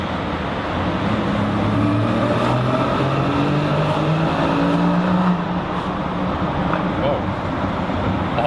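A 2016 Porsche Cayman GTS with a 340 hp engine and manual gearbox revs and accelerates inside a tunnel, its engine note rising and echoing loudly over steady road noise, with a voice speaking over it.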